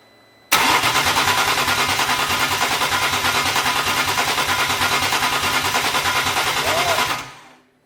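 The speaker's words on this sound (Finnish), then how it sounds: "Tässä vaiheessa onkin sitten hyvä pyörättää konetta ja katsoa, että sinne tulee öljynpaineet." A BMW E81 drift car's engine is cranked over by the starter to check oil pressure, a loud steady rhythmic churning that runs for about seven seconds without firing, then stops.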